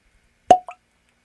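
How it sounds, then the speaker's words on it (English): A single cork pops from a bottle of Maker's Mark Wood Finishing bourbon, a close, crisp plop followed by a short softer squeak, with silence on either side. "Nice cork pop."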